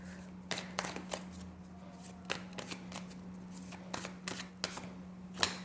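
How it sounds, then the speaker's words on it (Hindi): Tarot cards gathered up and handled at a reading table, a run of crisp papery flicks and slaps scattered irregularly, close and fairly quiet over a low steady hum. "मैं अब आपके सारे कार्ड्स ले ही लेती हूँ"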